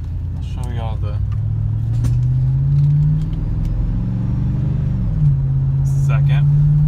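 A 2003 Chevrolet Suburban with a freshly rebuilt 4L60E automatic transmission drives along, its engine note low and steady, rising and easing as it pulls through gears, with a voice talking over the road noise.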